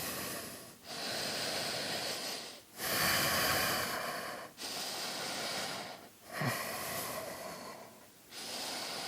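Slow, deep yoga breaths drawn in and let out through the nose, close and fairly loud, in long swells of several seconds separated by brief pauses, with no talking.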